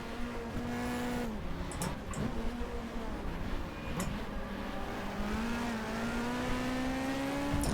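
Nissan Primera BTCC race car from the 1990s in the GTR2 racing game, its engine droning and rising through the revs with pitch shifts at gear changes, plus brief tyre and contact noises, loud and continuous with no voices.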